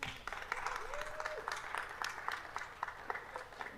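At a Los Angeles city council meeting, scattered applause rises in uneven bursts of separate claps. It sounds moderate and somewhat thin, with faint room noise and a brief tonal sweep partway through.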